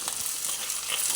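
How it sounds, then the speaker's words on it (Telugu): Ivy gourds frying in plenty of oil in a pan, a steady close sizzle and crackle throughout with faint stirring, no voices. "ఇప్పుడు దొండకాయలు కూడా వేసేసుకుందాం. దొండకాయ కర్రీకి కొంచెం నూనె ఎక్కువే పట్టిద్దండి, ఎందుకంటే కొంచెం బాగా వేగాలి కదా."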